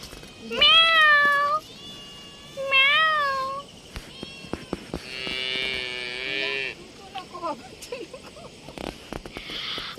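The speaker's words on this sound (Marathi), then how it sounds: "अरे वाव मांजर" A cat gives several clear, close meows near a waterfall, separated by short pauses, with a louder, drawn-out cry in the middle and light background noise.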